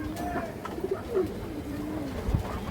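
A large male pigeon coos softly in low, rolling calls, close by, over a faint steady background hum.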